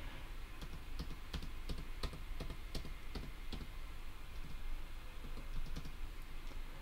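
A password is typed on a computer keyboard, with a quick, even run of close key clicks followed by softer continuous tapping, and no voices.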